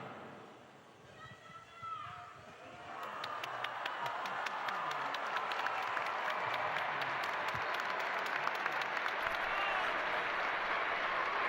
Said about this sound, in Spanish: Y se eleva el aplauso en la plaza de San Pedro.